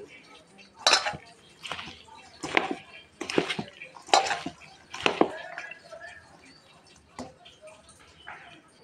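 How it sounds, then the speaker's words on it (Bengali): Greens being kneaded with rice flour in a bowl for a saag pakora batter, heard as a run of moist, clattering squelches and bowl knocks in roughly six close bursts, with a few scattered clinks afterward. "চালের গুঁড়ি দিয়ে এটাকে ভালো করে মেখে নেব"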